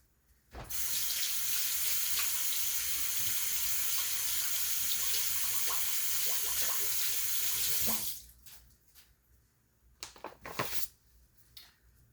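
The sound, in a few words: tap water running while washing hands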